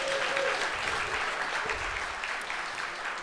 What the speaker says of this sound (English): I need you guys to give her a big round of applause